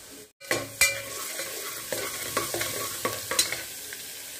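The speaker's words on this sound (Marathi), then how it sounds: "कांदा आणि लसूण अद्रकाची पेस्ट छान तेलामध्ये शिजलेली आहे।" Onion and ginger-garlic paste fry in hot oil with mustard seeds and green chillies, a close sizzle broken by repeated sharp scrapes and clinks of a spoon stirring against the pan.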